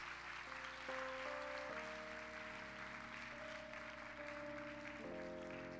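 A church congregation at a youth worship service claps warmly to welcome a new member, the applause running under sustained keyboard chords that shift through the passage.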